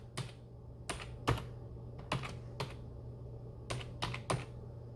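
Irregular clicks of computer keys being typed, several taps in small bursts with short pauses, close and fairly quiet over a low steady hum.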